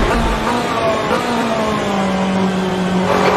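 Porsche 963 LMDh hypercar engine on track in Assetto Corsa, a steady loud drone holding constant pitch with slight shifts as the car is pushed through corners, continuous for the whole stretch.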